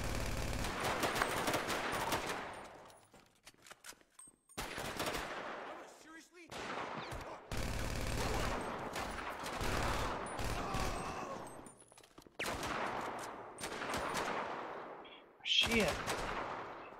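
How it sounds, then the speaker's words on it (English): Bursts of rapid automatic gunfire and single shots erupt in a Grand Theft Auto game, loud and close in clustered volleys separated by brief pauses, with players talking in between. "Where am I getting shot from?"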